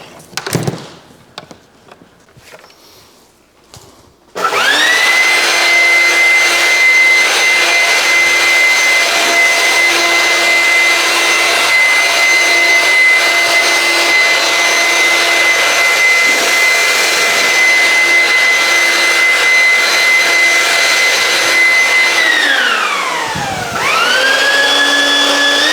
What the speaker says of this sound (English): see if we can't blow some of this dust out of here